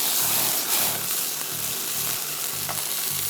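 Eggs fry in a pan for shakshuka with a steady, close sizzle and faint rhythmic low thumps underneath, no voices present.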